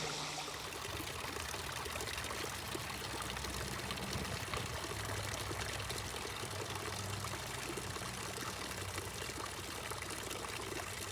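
Garden water fountain on a summer day, a steady broadband splash and pour of falling water, continuous and even, moderately close with no voices.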